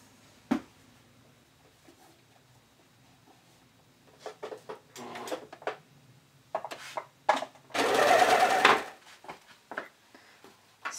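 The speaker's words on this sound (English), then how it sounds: "you can just go ahead and run it through your serger" Serger stitching through a bikini cup lining, a short fast mechanical whirr lasting about a second near the end, preceded by scattered taps and fabric handling at a quiet level.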